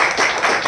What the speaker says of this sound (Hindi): मैं चाहूंगा इनके लिए मैं जोरा ताली।